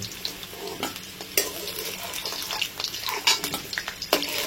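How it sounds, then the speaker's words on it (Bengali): Potatoes fry to a deep red in a pan, with a loud, continuous sizzle and crackle, close up, broken by repeated scraping stirs and metal clinks from the spoon, and no one speaking. "দেখো আলুগুলো পুরো লাল করে ভেজে নিয়েছি একদম।"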